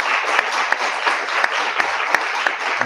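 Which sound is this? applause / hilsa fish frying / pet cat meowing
applause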